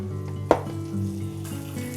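Flour-dredged pieces frying in a skillet, with a steady sizzle and a sharp clatter as a piece drops in, over a low constant hum.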